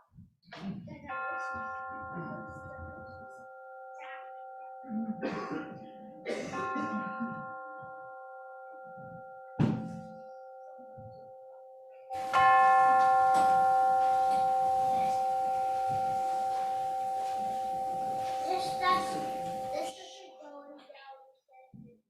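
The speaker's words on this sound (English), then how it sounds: "let us center our hearts and minds with the ringing of the chimes" Sustained, ringing chime tones linger and overlap, struck several times during a church service, with soft murmurs and small room noises underneath and a denser stretch of ringing later.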